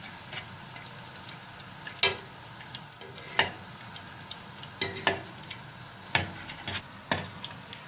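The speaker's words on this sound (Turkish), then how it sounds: "kızaracak şimdi bunlar pes pembe olacak" Kadayıf dolması, the Erzurum shredded-pastry sweet, frying in a pan: a soft, steady background sizzle under scattered sharp ticks and pops recurring every second or so, fairly quiet and close, no voices.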